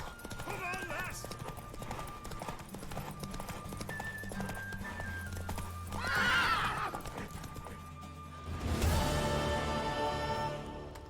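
A mare gallops with rhythmic hoofbeats, then lets out a couple of loud neighs over a continuous music score, with people talking intermittently, in the fantasy video game The Witcher 3.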